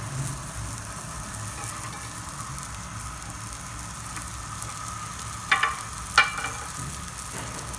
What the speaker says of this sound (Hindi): अब हमने इसको पैन में डाल लेना है। पैन को मैंने ग्रीस करके गरम कर लिया है।